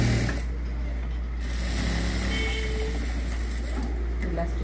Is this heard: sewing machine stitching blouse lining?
yes